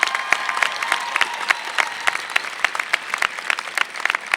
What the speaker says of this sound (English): you deserve a round of applause for beating the odds so significantly